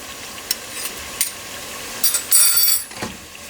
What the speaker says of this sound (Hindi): अब अदरक को ऐड कर देते हैं